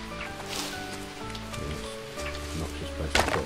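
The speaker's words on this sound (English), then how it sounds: "Okay, it's raining now." Rain falling in the jungle survival video game Green Hell, a steady soft patter with tonal game sounds underneath and a brief louder burst near the end.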